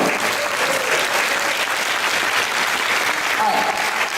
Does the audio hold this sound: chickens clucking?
no